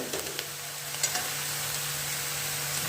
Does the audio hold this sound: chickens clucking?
no